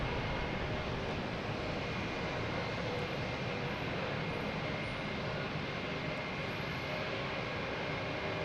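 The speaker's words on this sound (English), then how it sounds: "we have Cape Air taking off to Hyannis." A Cape Air plane taking off from Boston Logan Airport for Hyannis, its engine roar steady and loud throughout with a broad low rumble and no voices.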